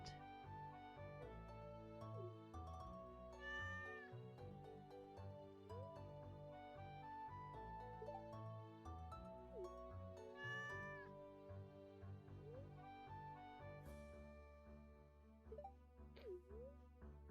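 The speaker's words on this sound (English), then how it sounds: "Of course we will adopt this cat." A cat meows repeatedly in the video game Stardew Valley, the cries rising clearly over steady, continuous game music throughout.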